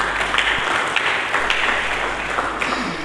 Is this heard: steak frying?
no